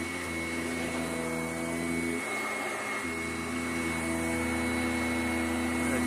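A Sanitaire SC881 vacuum cleaner runs steadily on a back porch, a loud close-up motor whine with a brief dip in pitch as it draws up loosened dirt.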